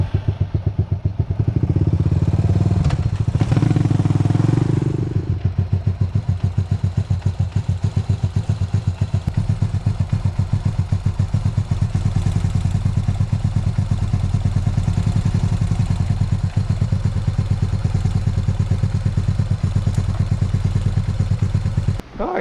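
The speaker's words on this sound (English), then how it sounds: "Now that it's idled up a hair, that way it doesn't die whenever I go to give it throttle at a dead stop" A Honda TRX 250EX ATV engine idles with a steady, rapid mechanical chug, close and loud throughout, and it briefly revs up in the first few seconds before settling back to idle.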